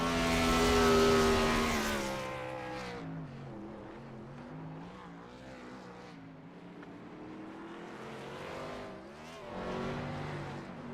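A car driving fast on a race track during a track day, its engine roaring loudly at first and then holding a steady, rising and falling drone as it accelerates along the straight.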